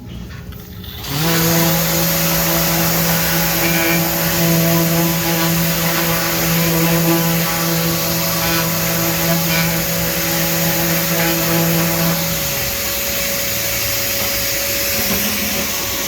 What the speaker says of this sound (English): First, I want to hit just the back side with the sander and take some of this fuzzy stuff off.